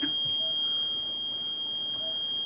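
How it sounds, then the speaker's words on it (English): A household smoke detector sounds a piercing, sustained high-pitched alarm tone, loud and steady throughout with no speech over it. "Wow, that's such piercing sounds, the smoke detector."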